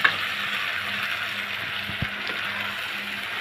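Bitter gourd stirred into spice paste frying in oil for a prawn and bitter gourd dish, a steady close sizzle with occasional scrapes and light knocks of the spatula against the pan.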